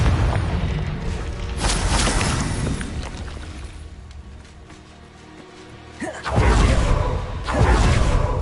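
Confringo fire-blast spell cast in the video game Hogwarts Legacy, heavy booming bursts with whooshing rushes, one at the start and louder ones near the end, separated by a quieter rumbling stretch.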